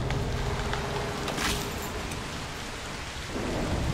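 A thunderstorm in the video game Broken Pieces brings a heavy rush of rain and a deep rolling rumble of thunder, loud and close with no voices.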